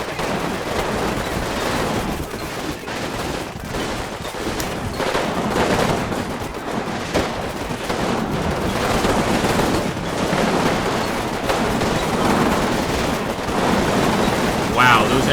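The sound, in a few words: covering gunfire in Combat Mission Final Blitzkrieg video game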